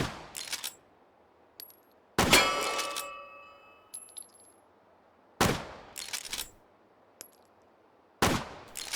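An 1860 lever action rifle fired deliberately, four loud sharp shots spaced a couple of seconds apart, each with a ringing metallic ping and the clack of the lever cycling between them.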